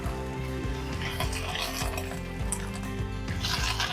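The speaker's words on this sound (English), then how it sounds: "give it a bit of a stir." Sweet leaves stirred in a hot pan of frying oil, with a steady sizzle and scraping of a utensil against the pan throughout, fairly close.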